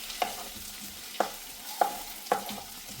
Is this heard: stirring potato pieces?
yes